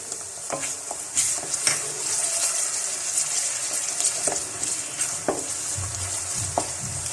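Onions sizzle steadily in a hot pan for beef karahi, with occasional stirring scrapes and clinks over the continuous frying hiss.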